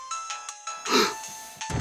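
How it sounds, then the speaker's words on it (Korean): A mobile phone ringing with a repeating electronic tone, loud and close, and a brief louder swell in the middle. "그때 휴대폰이 울려요"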